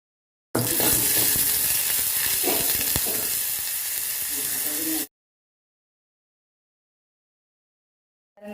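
Onions and chicken sauté with spice powder and salt in a clay pot, giving a loud, close, continuous sizzle and hiss with stirring scrapes for about four and a half seconds before the sound cuts to silence.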